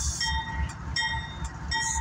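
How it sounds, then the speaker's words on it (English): A northbound CSX autorack freight train rolls past nearby in Dayton, Ohio, its wheels thumping and rumbling in a regular rhythm, with faint high metallic ringing over a steady low drone. "Northbound CSX autorack train that's been sitting for like over an hour is finally moving"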